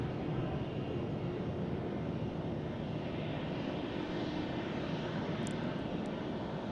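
A plane flying at Tucson International Airport gives a steady, loud, broad engine roar that holds evenly for the whole stretch, with no talk over it.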